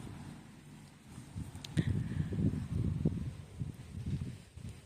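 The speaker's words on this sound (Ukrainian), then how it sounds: "Вітер сьогодні, дуже сильний вітер і похолодало." Strong, cold wind blows outdoors in a garden where new plants are being set out, a low gusting rumble buffeting the microphone and swelling and easing throughout.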